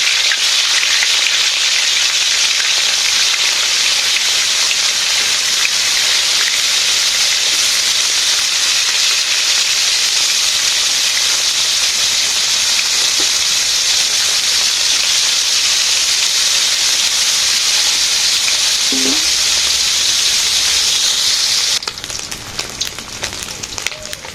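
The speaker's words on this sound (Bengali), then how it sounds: "মাছ ভাজি হয়ে গেছে" Koi fish (climbing perch) frying in hot oil in a village kitchen, producing a loud, steady, close-up sizzle that runs unbroken and drops off slightly only at the very end.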